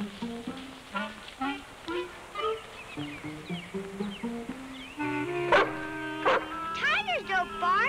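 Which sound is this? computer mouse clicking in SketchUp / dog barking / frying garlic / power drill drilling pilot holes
dog barking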